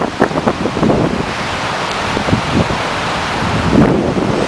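Choppy Lake Michigan waves at a Chicago swim area on a windy first day of spring, a loud, steady rush of surf and wind buffeting the microphone, with uneven splashes rising and falling throughout.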